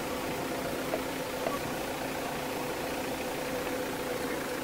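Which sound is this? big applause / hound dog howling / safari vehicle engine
safari vehicle engine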